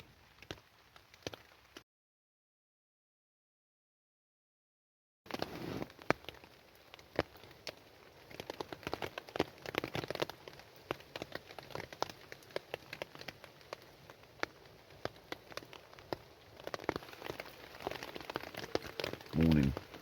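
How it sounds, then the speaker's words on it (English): Rain falling on a tent at night while wild camping, a dense pattering of drops on fabric, faint and close, interrupted by a brief dead-silent gap before the patter resumes. "it's been raining consistently all night."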